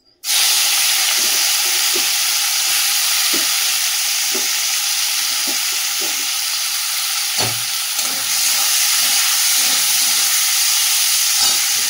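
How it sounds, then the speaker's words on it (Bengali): Prawns fry in hot oil in a wok, giving a steady, loud sizzle that lasts throughout, with a few soft clinks of stirring on top. "চিংড়ি মাছটা আগে ভেজে নিই।"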